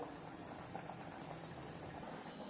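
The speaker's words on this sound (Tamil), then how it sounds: "பாருங்க சூப்பராக கொதிக்குது" Thick, spicy Tamil kara kuzhambu curry bubbles and boils steadily in a pot up close, a constant fizzing, popping simmer with no voices.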